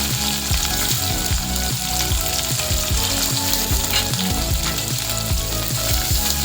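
Chopped onion frying in hot oil in a pan for masala dosa potato filling, a loud, dense, continuous sizzle with stirring scrapes, heard up close and alone.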